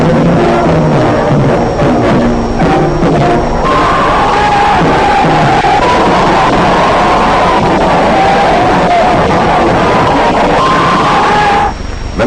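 On archival film, a large crowd in Düsseldorf cheers as German troops reoccupy their garrisons: a loud, continuous roar of many voices with shouts and whoops, distorted and saturated throughout.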